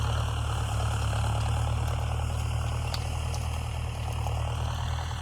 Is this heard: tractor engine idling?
yes